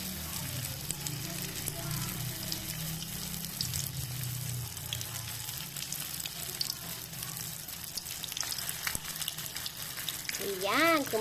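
Cooking oil sizzling and crackling as it heats in a pan for frying, a steady hiss with a low background hum, fairly quiet and continuous, with a brief voice near the end.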